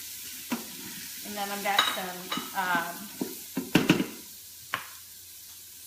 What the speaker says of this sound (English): You're just gonna put that inside. It's all nice and diced. Stir that around.